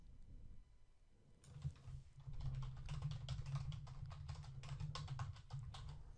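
Rapid typing on a computer keyboard while writing PHP file-upload code: a close, steady patter of keystrokes begins after a brief quiet start and continues densely to the end.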